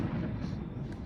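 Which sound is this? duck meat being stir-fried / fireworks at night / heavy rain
fireworks at night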